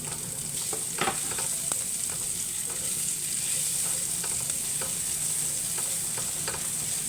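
Mushrooms sautéing in a pan for ginisang kabute with alugbati, a constant soft sizzle with light, irregular clicks and scrapes of stirring, quiet and without speech.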